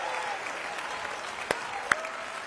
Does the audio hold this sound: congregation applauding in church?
yes